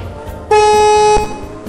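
A single loud car horn honk in a racing video game lasts under a second and stands out clearly over a faint engine-like background.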